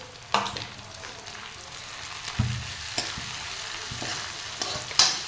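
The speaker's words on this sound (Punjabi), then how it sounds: "ਫਿਰ ਨਾਲ ਦੀ ਨਾਲ ਮਸਾਲਾ ਭੁੰਨੀ ਜਾਏਗਾ ਤੇ ਟਮਾਟਰ ਆਪਾਂ ਇਹਦੇ ਵਿੱਚ ਐਡ ਕਰ ਦਵਾਂਗੇ" Masala and tomatoes frying in a pan, a soft continuous sizzle broken by several sharp scraping and clanking strokes of a stirring spoon, close and without talk.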